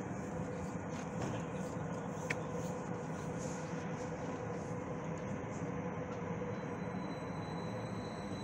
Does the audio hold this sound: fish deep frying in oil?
no